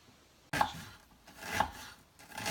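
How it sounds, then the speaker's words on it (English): A knife chops an onion on a cutting board for homemade salsa, giving three dull, thudding cuts spaced under a second apart. The chops are close and fairly loud with no talk. "I'm chopping up the onion."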